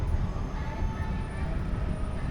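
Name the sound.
monorail passing by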